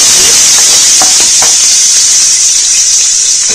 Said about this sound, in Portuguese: vão deixar refogar um pouquinho